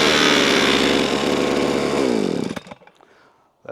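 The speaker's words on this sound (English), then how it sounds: "So like it starts to spin and then it stops." VEVOR 52cc gas multi-tool engine whining loudly at high speed, then winding down and cutting out, leaving near silence before a brief sputter at the very end.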